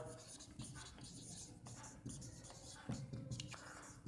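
Writing on a board during a grammar lesson: close, scratchy strokes in short irregular bursts, with a faint voice murmuring underneath.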